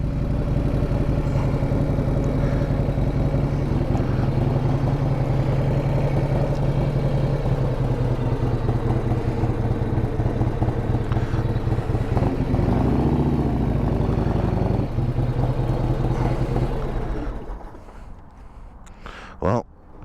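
A low-mileage 1994 Harley-Davidson Softail Heritage Classic runs with a steady, rumbling engine throb under a person talking. It continues for most of the stretch and then cuts off, leaving near quiet.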